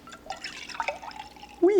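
Oat milk poured into a cup for a latte, a soft continuous liquid trickle rising to a brief louder gurgle at the end, heard close up.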